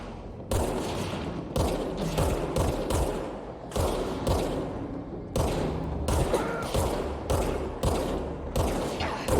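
Gunfire rattles in Control, repeated bursts of sharp close shots in uneven clusters separated by brief pauses, each volley loud and punchy against a low background.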